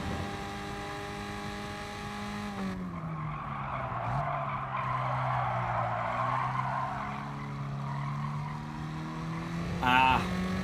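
In the GT Sport racing game, a car drifts through a daily race, its tires squealing and skidding steadily over a droning engine for several seconds, with a sharper screech near the end and a voice talking underneath.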